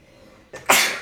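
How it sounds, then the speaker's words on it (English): A single loud sneeze up close, a short sharp intake followed by an explosive burst, with no talking around it. "I'm probably gonna sneeze."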